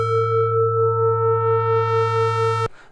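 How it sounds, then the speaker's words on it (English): A Sonicware Liven XFM synthesizer holds a steady buzzy tone while operator feedback is raised, so bright upper harmonics gradually fill in and push it toward a square wave before it cuts off abruptly near the end. "this knob is going to choose how much that operator 1 feeds back into itself"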